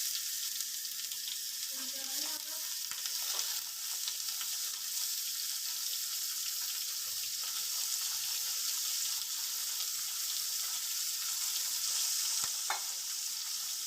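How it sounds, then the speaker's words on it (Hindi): Minced meat frying in a pan over sautéed onions for a khara masala keema, a steady bright sizzle with occasional stirring scrapes and a faint voice underneath. "अब हम कीमा ऐड करेंगे।"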